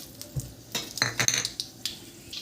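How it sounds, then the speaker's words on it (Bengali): Whole spices tempering in hot mustard oil give a close, bright sizzle mixed with sharp metallic clinks and scrapes of a utensil against the pan in quick, irregular bursts. "দিয়ে দেবো ফোড়ন।"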